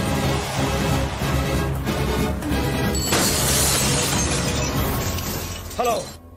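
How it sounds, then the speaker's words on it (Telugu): Glass shattering in a movie climax fight scene, a bright crash and scatter of breaking glass mid-way amid other impact noises, with a brief voice near the end. "అద్దాలు కూడా బద్దలు కొట్టుకొచ్చేస్తున్నావంటే"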